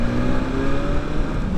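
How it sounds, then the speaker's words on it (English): A 2020 BMW S1000XR inline-four motorcycle engine droning steadily under load while riding, a continuous close and loud hum with wind noise and no talk. "Typical inline 4. It's pretty gutless in the low revs."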